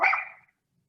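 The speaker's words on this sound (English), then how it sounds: "Why are you barking?" A small dog named Adi gives a single sharp bark, close and fairly loud, that rings out briefly and fades within half a second.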